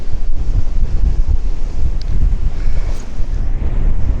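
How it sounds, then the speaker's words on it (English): Strong wind roars across the microphone on the Wales Coastal Path, with waves surging against the eroding shore beneath it, loud, continuous and rumbling, no voices. "My goodness, it's windy."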